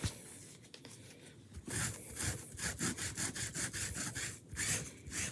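Rubbing white chalk paste off a board with a wet board eraser, a close, continuous rhythmic scrubbing with repeated back-and-forth strokes.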